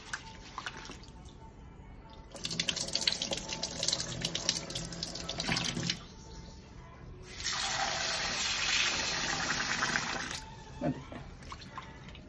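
Water runs and splashes into a vessel to soak pounded flattened rice in a home kitchen, coming in uneven bursts of gushing flow with quieter dripping between them, and a voice faintly under it.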